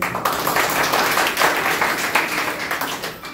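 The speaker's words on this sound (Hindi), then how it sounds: "ताली हो जाइए इसके लिए" Dense group clapping at a Navratri sadhana gathering, fairly loud and continuous for a few seconds with no talking over it.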